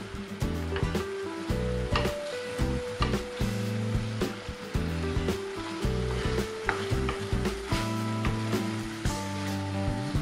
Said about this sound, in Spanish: Cocinamos hasta que los tomates estén tiernos.